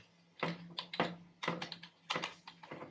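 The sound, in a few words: typing on a computer keyboard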